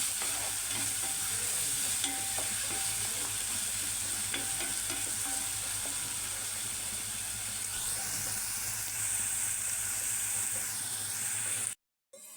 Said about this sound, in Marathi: आता कांदा ना चांगला भाजून घ्यायचा आहे कच्चा नाही राहायला पाहिजे जरा छान सोनेरी होईपर्यंत ह्याला भाजून घ्यायचं